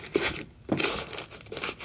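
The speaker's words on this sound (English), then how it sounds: "I'm just using the newspaper to fill the mug, so just crumple it up and then squash it in there" Newspaper crumpled by hand and squashed into a mug, giving close, crisp crinkling and rustling bursts separated by short pauses.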